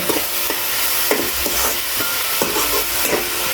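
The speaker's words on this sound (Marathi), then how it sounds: "बघा तेलात कांदो आणि टोमॅटो ॲड करून घेतलेला आहे आता चांगलं लाल करून घेत आहे" Onion and tomato frying in hot oil, with a spoon stirring in regular strokes against the pan over a continuous close, bright sizzle.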